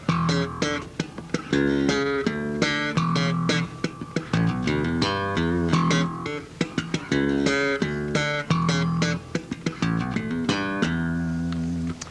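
Bass guitar plays a busy slap-style lick starting on low E with the thumb, punchy thumped low notes mixed with sharp popped higher notes in a quick, repeating groove.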